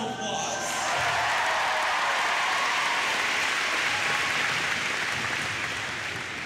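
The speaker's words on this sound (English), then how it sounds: "Give yourselves a round of applause." An audience at a motivational speaker's talk applauds in a dense, continuous wash of clapping that swells quickly and holds steady at full volume until the end.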